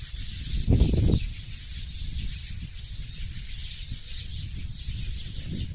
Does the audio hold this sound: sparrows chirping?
yes